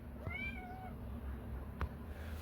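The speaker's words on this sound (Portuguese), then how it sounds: "só eu começar a gravar, o gato já começa aqui a miar" A cat meows a couple of times, a clear wavering call near the start, followed by a faint soft knock against a quiet indoor background.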